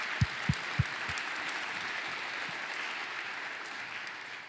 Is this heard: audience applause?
yes